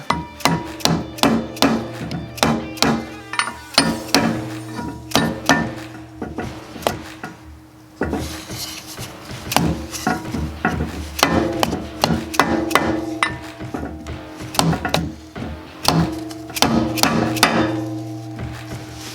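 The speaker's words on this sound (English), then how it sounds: "I'm going to take a rubber mallet, I'm just going to tap on it a little bit." A rubber mallet taps on a part of a Yanmar mini excavator in close, rhythmic runs of dull strikes, pausing briefly partway through, with no speech.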